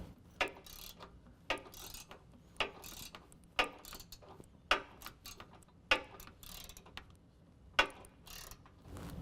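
An 18mm socket ratchet loosens a differential bolt on a 2015-17 Ford F-150 4WD during a lift kit install, giving about eight sharp, evenly spaced clicking bursts, close and fairly quiet, with no talking.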